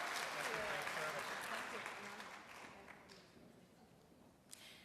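An audience at a military armed services awards ceremony claps in sustained applause that starts strong and gradually fades over several seconds in a large hall.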